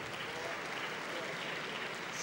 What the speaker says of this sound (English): they're getting good applause and appreciation here